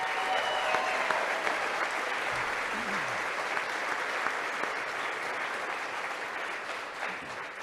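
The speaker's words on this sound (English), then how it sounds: "Give a big round of applause to Darren." Applause from a crowd gathered for a college football press event introducing a new head coach, steady broadband clapping sustained throughout at moderate distance, fading slightly toward the end.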